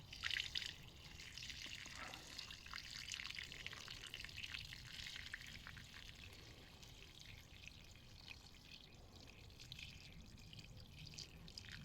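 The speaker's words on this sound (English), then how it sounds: "So I'll just literally pour that away." Water gently poured off a container of settled wild clay trickles and drips quietly, a faint, continuous liquid dribble with small splashes and no speech.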